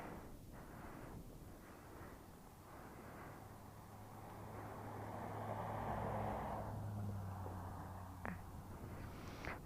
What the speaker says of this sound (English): Comes a guy in a truck.